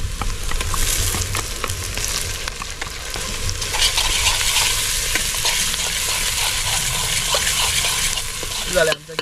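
Ground coconut and onion paste fries in a pot over an outdoor fire, giving a steady crackling sizzle broken by scraping stirs, with faint voices in the background.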